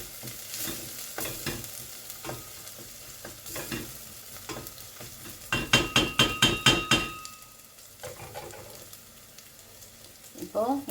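Ginger and garlic fry in a pan, with a faint sizzle under scattered spoon scrapes and a brief run of sharp metallic stirring clinks in the middle, close by.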